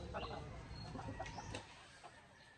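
Chickens on a native chicken breeding farm cluck quietly nearby, with soft scattered calls over a low farmyard background.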